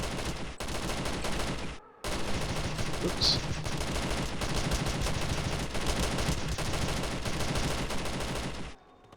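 AK rifle fire in a PvP video game match: loud, dense, rapid automatic bursts run almost continuously, with one brief pause early on.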